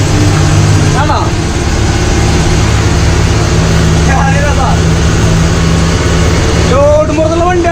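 A heavily loaded Ashok Leyland 3118 BS4 12-wheel truck climbs a hill, its engine droning loudly and steadily while a turbo whistle rises in short sweeping bursts under ongoing talk.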